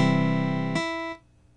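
A strummed guitar roll played back by tablature software, rising from the fifth string up to a melody note: one sustained rich chord that rings, shifts at a second attack, then cuts off abruptly, with no voices.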